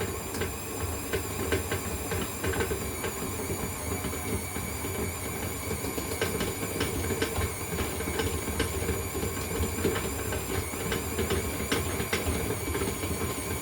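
A stand mixer's beater runs continuously in a kitchen, a steady dense mechanical whir and rattle holding at an even loudness throughout with no talking.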